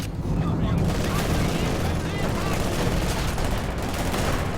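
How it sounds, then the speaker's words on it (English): Dense infantry gunfire in a tank battle video game, a continuous loud volley of rifle and machine-gun shots with rumbling booms underneath, steady throughout. "Infantry firing on us."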